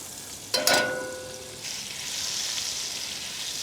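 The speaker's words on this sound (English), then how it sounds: "So we now add a bit of butter and then our leeks." A good knob of butter dropped into a hot pan, a brief clatter and burst of sizzle followed by a steady, moderate frying hiss, close and without talk.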